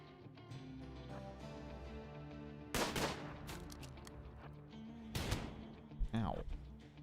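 Gunfire in the video game Odyssey comes in a few sharp, loud bursts against a quiet musical game backdrop, with a faint voice nearby.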